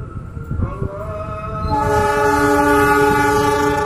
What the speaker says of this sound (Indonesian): lokomotif CC 206 sudah mulai terdengar ya